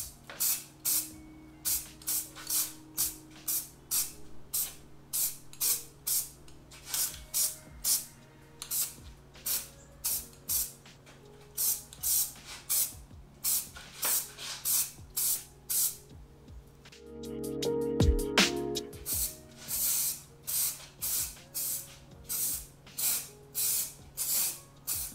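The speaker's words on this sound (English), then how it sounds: "spray coming out of here is pretty intense. Sprays out." Aerosol spray can sprays a thick coating onto a surface in repeated short hissing bursts, close and loud, with a longer continuous spray midway through.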